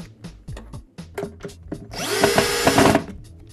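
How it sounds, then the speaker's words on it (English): A power drill drives Euro screws into a hinge plate on a Cooke & Lewis kitchen cabinet bridging unit, preceded by short taps and clicks, then one loud, steady, close whirring burst of about a second. "Using the Euro screws provided, I now screw this in."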